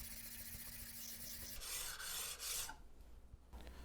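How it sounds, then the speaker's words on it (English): A steel chisel back being lapped flat on 220 grit sandpaper over a lapping plate with heavy downward pressure, giving a steady close rasping scrape that changes tone midway and continues without talk. "This is 220 grit sandpaper that I'm using. I'm putting quite a bit of downward pressure to keep this flat on my lapping plate."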